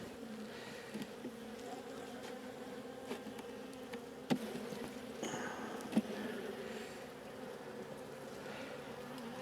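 Honeybees in a weakened hive with hive beetles and pollen buzz as a steady, faint drone close by, with a couple of sharp clicks or knocks from handling frames and no talk.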